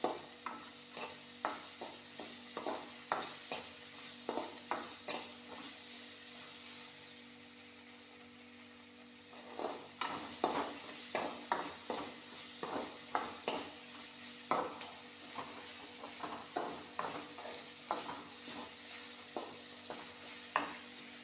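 Food fries in a pan under repeated stirring, with rhythmic scrapes and clinks of a spoon against metal over a soft sizzle, a short pause near the middle before the strokes resume.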